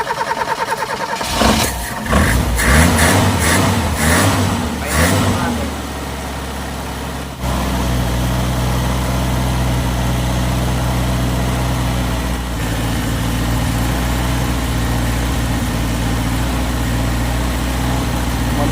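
Car engine that sat unused for nearly a month cranks repeatedly, stumbles, then catches and runs at a steady loud idle close by, with a voice briefly heard during the cranking.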